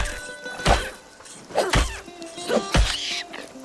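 Three evenly spaced blows strike a crevet in RuneScape: Dragonwilds, each a dull thud joined by a short squealing cry from the creature, standing out over a quiet game background.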